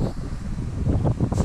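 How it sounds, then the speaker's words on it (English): Steady wind buffets the microphone in a low, rumbling roar that swells and gusts throughout, with no voices. "Sorry for the wind, y'all. It's really windy out here."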